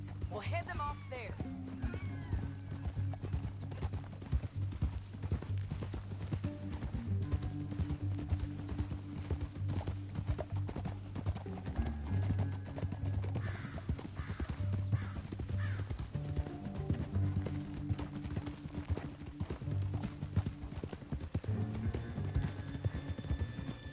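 Horses' hooves clip-clop at a galloping pace in the video game Red Dead Redemption 2, a steady rhythmic beat that runs under a musical score and spoken dialogue.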